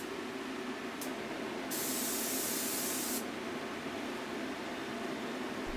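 A steady HVLP turbine hiss from a Titan Cap Spray 115 runs throughout, joined by a louder, brighter spray burst of about a second and a half from a Fuji T75G gun spraying finish, with a brief puff before it.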